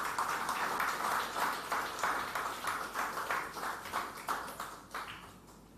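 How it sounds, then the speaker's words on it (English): An audience at a startup investor demo day claps as a chairman walks on stage. The applause is a dense, steady patter that gradually thins and fades toward the end. "Ladies and gentlemen, a warm round of applause even as Mr."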